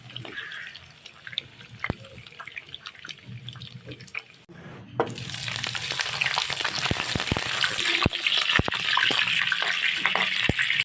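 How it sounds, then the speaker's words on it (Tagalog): Hotdogs frying in oil: a crackling sizzle that grows louder after a brief pause, with sharp pops and spatters throughout. "Prito-prito natin sila."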